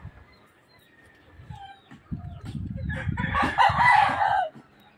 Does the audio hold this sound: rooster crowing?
yes